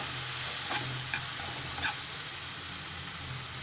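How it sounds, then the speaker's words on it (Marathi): Onion, tomato, salt and turmeric stirred in a frying pan with oil for Maharashtrian egg bhurji: continuous close sizzling with a few soft spatula scrapes, no talking. "मीठ घालूया, हळद पावडर घालूया आणि आता मिश्रण एकजीव करून घेऊया"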